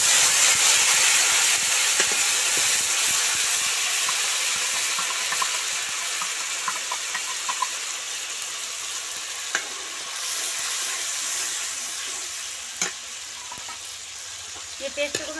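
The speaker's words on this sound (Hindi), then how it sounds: "ये पेस्ट को मैं थोड़ी देर भूनने देती हूँ" Spice paste frying in a pan in Indian cooking, with green chillies already fried in, a loud steady sizzle and hiss close by that eases slightly over time, with occasional sharp clinks of stirring.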